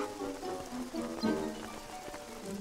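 Rain patters in a Spanish-language animated cartoon, a soft, steady spray of drops beneath sustained musical tones, with no talk over it.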